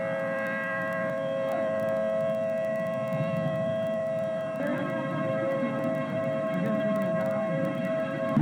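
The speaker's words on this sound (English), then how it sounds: "The tornado sirens are heard during the video, as the tornado is seen quickly approaching." Tornado warning sirens near Andover, Kansas and McConnell Air Force Base wail in a sustained, steady tone as the tornado approaches, droning continuously at moderate distance without any speech.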